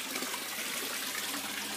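Water flows steadily through a gravity vortex solids separator barrel in an aquaponics system, a dense continuous rushing and trickling close by with no voices.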